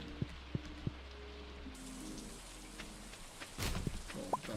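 Rain falls in a Stardew Valley-style farm game, a steady soft patter of raindrops with a few brief clicks and thumps from game actions, no voices.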